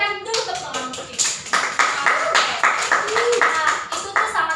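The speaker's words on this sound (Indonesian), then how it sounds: "Berikan dulu tepuk tangan untuk Kiki" A classroom of students claps for a classmate, with dense, uneven hand claps filling the whole stretch and a few brief voices mixed in.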